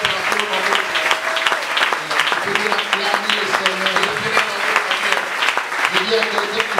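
A church congregation applauds to acclaim the Lord, steady rhythmic clapping from many hands filling the room, with voices and tones sounding beneath it.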